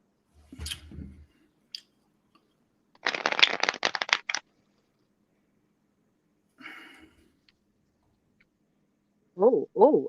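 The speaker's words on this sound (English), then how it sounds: "So just let me shuffle the cards up." Playing cards shuffled with a quick riffle burst, followed by a softer shuffle and scattered handling noises, with brief vocal sounds near the end.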